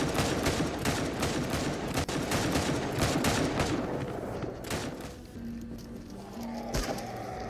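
A deadly entity's turret in the video game Into The Radius fires sustained bursts of rapid gunfire, dense and continuous for several seconds before thinning out into a few scattered shots.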